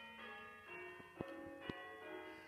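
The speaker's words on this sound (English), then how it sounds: "this is playing an accurate quarter peal of bells" Sampled church bells ring a quarter peal, generated by Sonic Pi software; overlapping tones sustain, with sharper strikes standing out near the middle, and nobody speaks.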